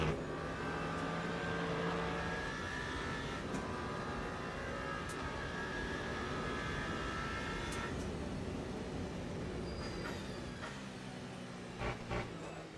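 LMP2 prototype race cars in Le Mans Ultimate at Le Mans give a continuous engine drone with shifting revs and gear changes, steady and moderately loud throughout.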